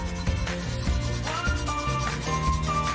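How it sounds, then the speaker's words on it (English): A gloved hand rubs holographic glitter onto a tack-coated tumbler, giving a steady, close scrubbing texture that runs continuously under background music, with no talking. "basically rub your glitter in"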